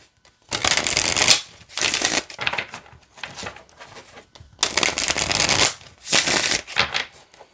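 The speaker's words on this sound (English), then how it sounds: "let's see how it shuffles here" A tarot card deck is shuffled close up in loud riffling bursts, each about a second long, separated by short quiet gaps and softer handling noises.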